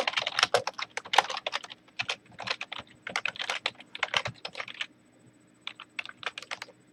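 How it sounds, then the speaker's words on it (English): Computer keyboard typed on during a live programming session: close, rapid bursts of key clicks with short pauses between runs, no voices. "That's way too much typing."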